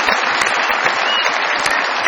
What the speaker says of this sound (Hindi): बहुत सारी तालियां कुर्तुलैन के